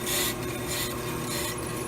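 A brake lathe cutting across a brake rotor, a loud, continuous, close grinding rasp with a bright metallic scrape that swells and eases briefly, no talking.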